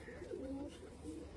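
A pigeon coos softly in low, rolling phrases, faint and close, with light background noise at a rooftop pigeon-flying loft.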